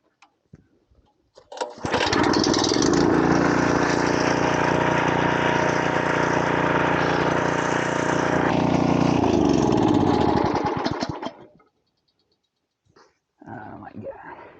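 A Champion tiller engine pulls over and fires up, then runs loud and steady for several seconds at a close, even roar before cutting off abruptly, with brief voices afterward.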